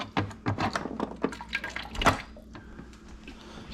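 Water drips and trickles from a Primo water dispenser being drained during cleaning, a quick run of close, irregular splashes and drops that thins into a faint, sparse trickle.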